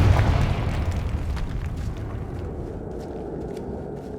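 A Confringo spell blast in Hogwarts Legacy bursts loudly with a heavy low boom, then rumbles and crackles away with faint debris ticks.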